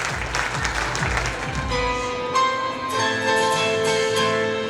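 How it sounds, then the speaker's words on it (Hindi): Audience applause for a surprise performance at a school Mother's Day celebration, a dense burst of clapping that shifts as music begins underneath. "तो एक बार जोरदार तालियां हो जाए सरप्राइज परफॉर्मेंस के लिए।"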